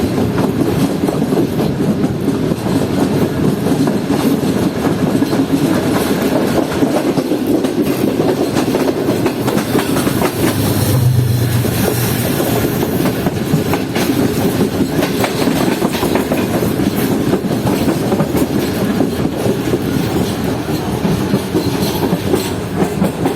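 Karakoram Express 41 Up passenger train running on rails between Karachi and Lahore, near Rohri Junction's outer signal, with steady loud rolling rumble and rhythmic clickety-clack of wheels throughout, no talk.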